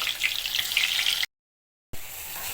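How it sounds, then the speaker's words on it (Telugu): Bitter gourd pieces deep frying in hot oil for a pickle, giving a loud, dense, steady sizzle that cuts out briefly and then resumes. "ఇప్పుడు మనము కాకరకాయ ముక్కల్ని వేసి డీప్ ఫ్రై చేసుకుందాం"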